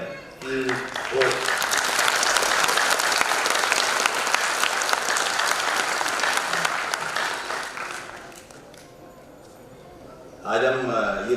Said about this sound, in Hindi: एक बार तालियां हो जाए